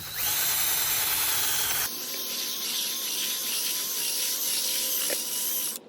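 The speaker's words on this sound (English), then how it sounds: "Then you're gonna grab your drill brush and go to town." A power drill whirs loudly and continuously, its pitch shifting as the spinning drill brush scrubs against car carpet, then cuts off at the end.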